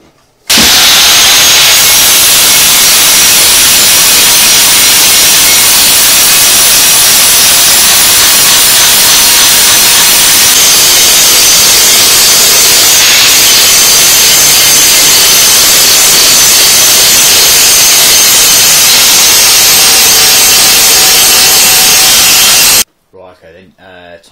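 Lapping wheel grinding crud off a motorcycle exhaust on an SR250 project, a loud, steady broadband whirring rasp that runs continuously for over twenty seconds before cutting off abruptly.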